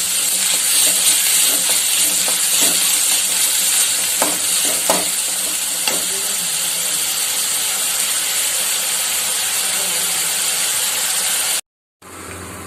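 Onions for jackfruit kofta fry to golden brown in a pan, a steady, loud, dense sizzle with occasional stirring scrapes, running continuously before a brief cutoff near the end.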